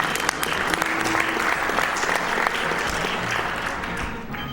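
Steady applause from a live audience at a speedrunning marathon event, dense clapping sustained for several seconds before tapering slightly at the end.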